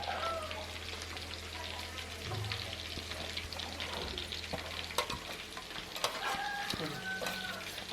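Cabbage tossed into a hot pan and stir-fried for chicken noodles, a continuous close sizzle with scraping stirs and occasional clinks of the utensil, a low hum underneath.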